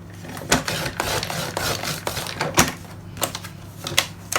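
A series of sharp, crisp paper-cutting snaps and slices, irregular in rhythm, close by with a steady low hum underneath, as printed paper templates are cut.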